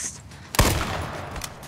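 A single sharp gunshot rings out in the survival game H1Z1, followed by a lingering rumble and a fainter shot shortly after.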